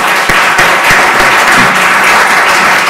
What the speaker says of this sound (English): So let's give a round of applause to our great speakers.